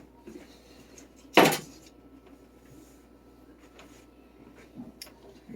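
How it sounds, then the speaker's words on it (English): A metal baking pan set down with a single sharp clatter in a home kitchen, loud against quiet background with faint shuffling around it, before roasting vegetables and sausage in the oven. "All right, let's put the pan over here."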